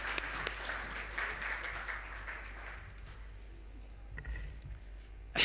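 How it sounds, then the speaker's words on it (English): Faint, distant applause from an audience in a conference hall at a digital medical education event, a soft patter of clapping that thins out and fades toward the end. "Can we make a round of applause once again?"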